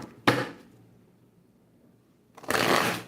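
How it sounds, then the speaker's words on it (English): Two short bursts of a tarot card deck being shuffled, crisp riffling flutters separated by a quiet pause, close and clear with no talking. "Shuffle these up."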